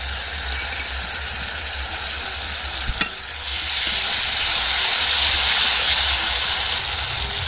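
Tomato paste frying in spiced oil in a pan, a steady loud sizzle that rises and brightens after a brief clatter, with continuous hissing and no talk.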